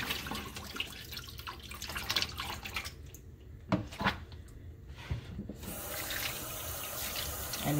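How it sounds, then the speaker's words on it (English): Water running and splashing in a kitchen sink as it is poured out and a snapper is rinsed, a steady close wash broken by a few knocks and drips before the flow resumes. "now throw away the water"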